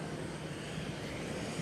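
Propeller airplane engine at a small airport near Livingstone, Zambia, a loud, steady, close drone that holds even throughout without any talk.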